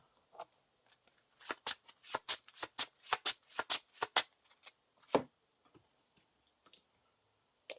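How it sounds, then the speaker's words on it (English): Playing cards riffled and flicked through from a deck during a Lord of the Rings card game, a quick burst of close crisp snaps and flutters with a few isolated clicks before and after. "Search the top 5 cards for attachment"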